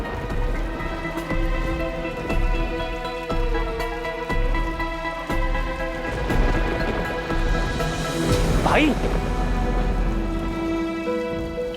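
Heavy rain pours steadily throughout, a dense wash of drops with a brief louder swell near the end. Someone speaks briefly over it, and a tonal music bed runs underneath.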